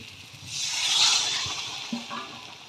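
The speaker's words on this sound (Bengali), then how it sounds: "এবার আমি জল দিয়ে দেবো হালকা" A little water going into a pan of pointed gourd curry cooked in oil, giving a rising then fading broad hiss and sizzle that swells and settles, with a soft clink near the end, close and moderately quiet.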